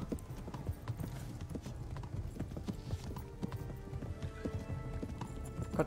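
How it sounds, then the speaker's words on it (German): Horse hooves pound in a fast galloping clip-clop rhythm in the medieval game Kingdom Come: Deliverance, steady and fairly close, with an occasional snort. "Jetzt reiten wir noch mal ein bisschen schneller."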